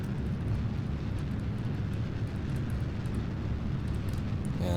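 A rocket engine at full throttle in Kerbal Space Program gives a continuous heavy low roar that holds steady and loud from start to finish.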